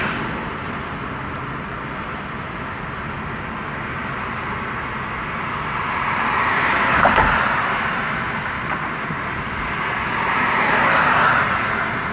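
Car driving steadily along a road near 50-60 km/h on an expressway, with continuous engine and tyre roar that swells midway and again near the end as traffic passes.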